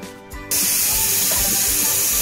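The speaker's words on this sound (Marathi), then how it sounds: "आता 3 शिट्ट्या झालेल्या आहे" Pressure cooker with chicken inside, releasing steam in a loud, continuous close hiss that bursts on suddenly after a short quieter moment and holds steady.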